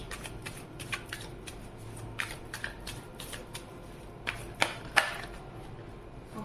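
Tarot cards being shuffled by hand, giving soft rapid riffling with sharper snaps and taps, close and alone without talk.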